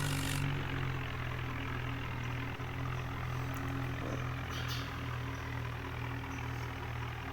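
A tractor engine idles steadily at a grain warehouse while its wheat trolley is unloaded, a continuous low drone with a faint hum and no pauses throughout.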